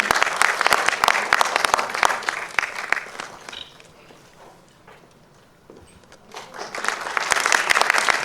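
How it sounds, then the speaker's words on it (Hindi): A large crowd claps at an award show, loud dense applause that thins and fades midway before swelling back up strongly toward the end. "दोस्तों, तालियां बजती रहनी चाहिए यहाँ पर"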